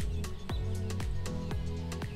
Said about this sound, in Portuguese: Eu não sei se vocês conseguem ouvir, mas... Os passarinhos, Rafael.